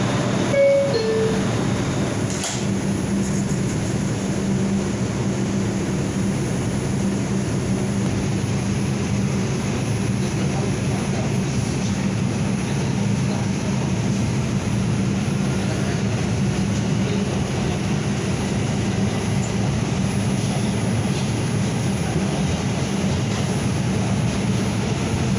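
An R142/R142A New York City subway 6 train riding along its line near Union Square, a steady loud rumble of wheels and motors with sustained low drone, no talk, continuous throughout.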